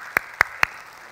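Three sharp, separate claps spaced evenly across a brief moment, standing out loud against a quiet hall at a church New Year revival service, more like a few single hand claps than broad applause.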